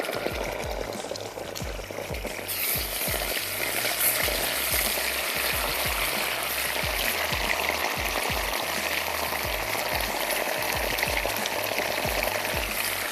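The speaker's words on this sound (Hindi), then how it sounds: "जिसमें मैंने ज़ीरा ऐड किया था। और अब इसमें ऐड कर देते हैं ये टोमेटो प्यूरी।" Tomato puree sizzling loudly in a pan of dal masala with cumin, a steady broad frying hiss that swells after the first couple of seconds, with occasional low knocks and stirs underneath and no talking.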